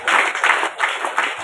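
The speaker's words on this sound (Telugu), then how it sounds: "మీ అందరూ చప్పట్లు ఆగకుండా చప్పట్లు కొట్టాలి" An audience claps in rhythmic bursts at a Ganesh ceremony in the Vasavi temple, steady group applause rising and falling with no voices over it.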